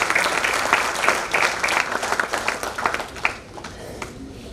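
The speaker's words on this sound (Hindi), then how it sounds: "हाँ, इनके लिए भी तालियां बजाई।" A meeting audience of the Indore Heart Club in Jaal Auditorium claps for a chief guest, a loud, dense burst of applause that fades toward the end.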